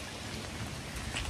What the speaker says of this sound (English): They said it was going to rain, but it didn't say it was going to rain this heavily.